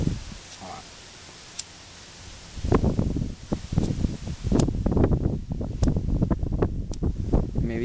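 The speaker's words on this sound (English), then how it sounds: "Maybe you should wait till the wind blows by." Outdoor wind buffets the microphone near a wood campfire being lit, starting faint and then turning into a loud, continuous rushing roar with gusty surges and rustling, close up, lasting several seconds with no clear talk.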